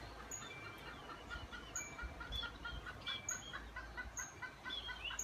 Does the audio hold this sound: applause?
no